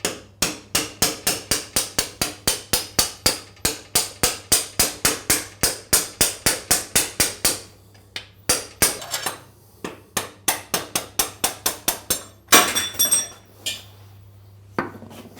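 A pin punch struck by a hammer drives a bolt out of a Moto Guzzi Le Mans, ringing metallic blows in a fast steady series, then a pause, then another run of strikes, close and sharp.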